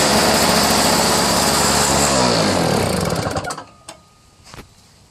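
A Lawnboy 320R two-stroke single-stage snowblower engine buzzes loudly at high pitch, then winds down over a few seconds and dies, leaving a couple of faint clunks.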